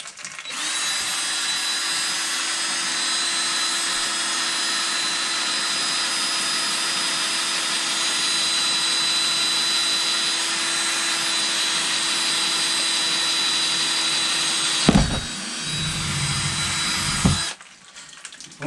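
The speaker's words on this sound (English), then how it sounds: "what I'm going to do is I'm going to drill a hole to get it started" A power drill runs steadily for about fifteen seconds, boring a starter hole in a brooder box panel before a jigsaw cut, with a continuous whine close by, then a brief rougher burst before stopping.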